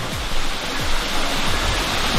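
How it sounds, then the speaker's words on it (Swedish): A small babbling brook in natural surroundings on Cyprus gives off a steady, close, broadband rush of flowing water that fills the whole moment with no talking. "Vi har en bäck som porlar så här vackert."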